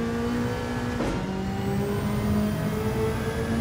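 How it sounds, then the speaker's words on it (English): Sports car engine in Gran Turismo 7 driven with a wheel and pedals, steady loud drone with a brief turbo flutter chatter as the throttle lifts, then the engine note carries on alone at close range. "Listen to that turbo flutter, how good is that?"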